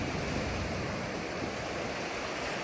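Sea water surges into North Berwick harbour in Scotland, a loud, steady broadband rush of moving water and surf filling the whole stretch without pause, no voices.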